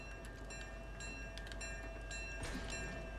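A train in a video game during a live-streamed gaming session gives a steady rolling rumble with sustained horn-like tones rising and falling over it, moderately loud and continuous, with no talking.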